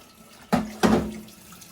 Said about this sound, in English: I'm now going to add some cold water to this just to kind of help it cool off quicker.